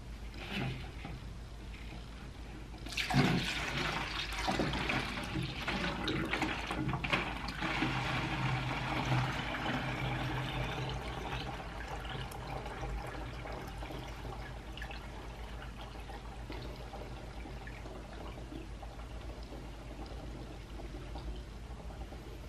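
Calcium vinegar made from eggshells is poured through a funnel and strainer into a clean container. After a few seconds of quiet, a steady liquid trickle and splash begins and runs continuously to the end.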